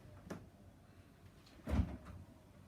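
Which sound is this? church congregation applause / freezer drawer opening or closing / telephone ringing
freezer drawer opening or closing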